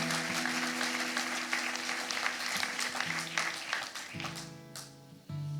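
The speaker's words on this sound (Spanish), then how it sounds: "también le pediré un aplauso para todo ese equipo de voluntarios" A church congregation applauds its team of volunteers, a dense wash of clapping filling the whole stretch at a moderate distance, with sustained music tones underneath and no talking.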